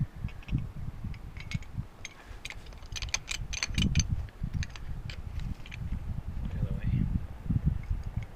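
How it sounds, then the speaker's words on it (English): An 8-ton bottle jack on blocks being cranked up under a vehicle, with rapid metallic ratcheting clicks in short bursts, close by over low rumbling background noise. "I'll take this 8-ton bottle jack here, put it on these blocks, crank it up"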